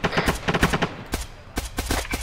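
Rapid bursts of automatic gunfire from a section of soldiers opening up together, loud and close, a fast crackling volley that stutters through with only a brief lull before resuming.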